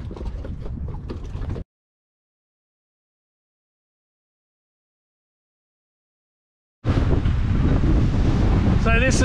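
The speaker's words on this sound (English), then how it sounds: "Bit of sailing to windward. Got up around 20 knots of breeze." Strong wind of around 20 knots buffets a small sailboat beating to windward at sea, a loud rushing roar with wave wash; it fills the opening, drops to silence for several seconds, then returns loud and steady to the end.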